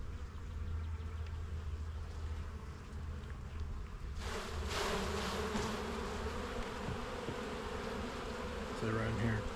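Honeybees buzz steadily at close range while a brood frame with drone comb is lifted during a spring hive inspection, a dense continuous drone that swells louder partway through.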